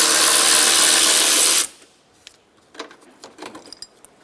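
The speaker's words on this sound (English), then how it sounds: "Remove the 12mm bolt for the radiator bracket." A power tool whirs steadily for about a second and a half, backing out a 12mm bolt from the radiator bracket of a 2012-2016 Subaru Impreza, followed by small metallic clicks and handling noises.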